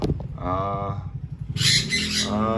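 Parrots, sun conures among them, at a pet shop aviary during a bird sale call out in loud, harsh squawks and a shrill burst, close and overlapping.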